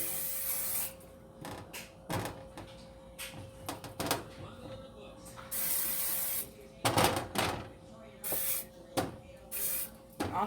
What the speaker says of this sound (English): we're just gonna spray the sweet potatoes as well. Just a little bit of vegetable canola oil.